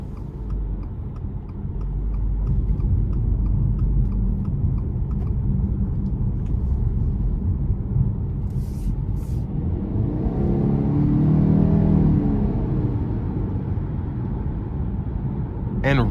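A 2023 Subaru Ascent Limited with a turbocharged four-cylinder and CVT pulls hard at high RPM, its engine a steady loud rumble under in-cabin road noise, and the drone swells near the end.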